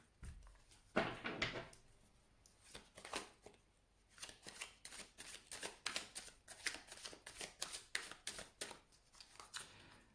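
Tarot cards shuffled by hand in a quiet room, a long run of crisp riffling bursts and soft slaps repeating at a steady, quick rhythm, close and clear with no talk.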